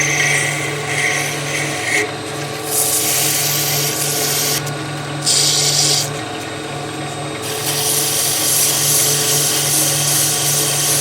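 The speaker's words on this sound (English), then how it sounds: "I'm going to stop, grab my sandpaper, a little touch here just for a second." Sandpaper rubs against a spinning wooden top on a woodturning lathe, giving a steady raspy friction over the motor hum in a few bursts with short pauses.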